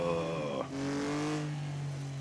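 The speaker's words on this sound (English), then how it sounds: "Listen to that engine." Race car engine in Assetto Corsa on the Targa Florio road course in Sicily, revving loudly with rising harmonic whine, a sharp gear change dip, then a steady droning pull close up.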